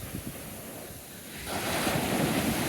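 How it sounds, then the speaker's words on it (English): Surf at a beach in Ocean City, Maryland, with a soft lull before a broad wave crashes and washes in, steady wind rushing over the microphone, no voices. "let me just pan around one more time and let you enjoy the sounds of the ocean."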